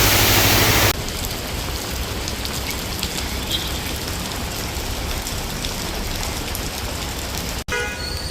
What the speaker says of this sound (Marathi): मुंबई शहरात मुसळधार पाऊस मध्यरात्रीपासून कोसळतोय